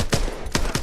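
Three quick bursts of suppressed gunfire from a gun in the video game Call of Duty: Advanced Warfare, close and punchy, with short gaps between shots.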